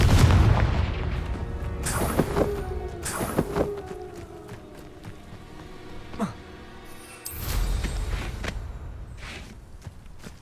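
Confringo fire-blast spells go off in Hogwarts Legacy on Xbox Series X: several loud, close booming bursts spaced a second or more apart, each with a rumbling tail, among other game combat noise.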